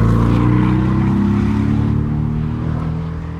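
The 2-liter or 2.5-liter four-cylinder engine of a Porsche 718 Boxster starting; a loud, close, deep engine roar that settles and fades slightly by the end.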